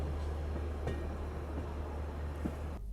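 Inside the moving Bengaluru Superfast from Howrah, a steady low rumble of the coach with a few faint clicks from the rails, continuous and fairly quiet, no talking.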